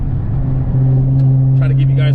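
Steady car noise, with a strong low engine drone that holds throughout and brighter rushing sounds near the end, heard on a bumpy drive on a dewy morning.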